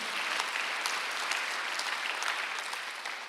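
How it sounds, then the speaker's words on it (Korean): A church congregation applauds during a Sunday worship service, steady broadband clapping sustained throughout and slowly tapering near the end, no voices over it. "박수 한번 더 주시기 바랍니다"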